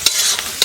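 Cumin paste and ginger paste frying in a pot for chicken curry, a steady close sizzle with a few brief stirring scrapes at the start, middle and end.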